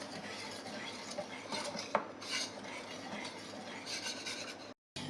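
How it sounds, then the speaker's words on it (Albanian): Lemon cream thickened with starch being stirred in a small pan over medium heat, a steady scraping and clinking of utensil against metal with faint irregular knocks, close and moderately quiet, no voices. "do ta trazojmë vazhdimisht sepse kemi shtuar niseshten"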